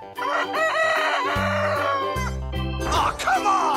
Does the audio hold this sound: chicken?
yes